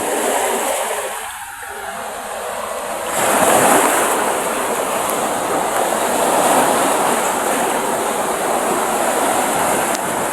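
Large ocean waves roll in under strong wind, heard as a loud, sustained roaring wash with a surge of surf crashing close by partway through, and no talk.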